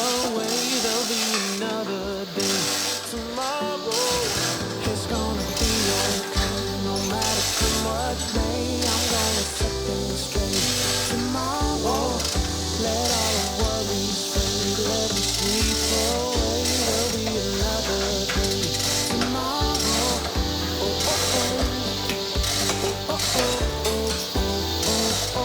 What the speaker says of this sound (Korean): H빔 시공 작업에는 유압잭과 체인블럭을 사용해 H빔을 시공부까지 올려주고